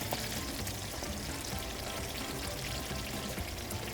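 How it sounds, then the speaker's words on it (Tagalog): Water is poured into a pan of cooking ground pork and sauce, making a continuous close splashing rush with a light sizzle underneath and no talking. "At pagkatapos, isusunod na natin dito yung tubig."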